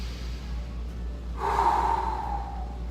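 One audible breath during a yoga high lunge, a short airy inhale-exhale close by over a low steady background hum, with no talking.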